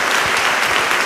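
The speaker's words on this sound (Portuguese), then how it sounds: "Dê uma salva de palmas ao Senhor." A church congregation applauds together in a short, steady burst of dense clapping that fills the room with no voices over it.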